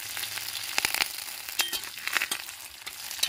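Panch phoron, dried chilli and bay leaf fry in hot oil, giving a close, crackling sizzle with sharp spitting pops scattered irregularly through it.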